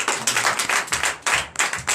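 Rhythmic clapping from a church congregation during a Sunday worship service in Benin, several bursts of hands beating together in a steady pulse, fairly close and moderately loud, with no voices over it.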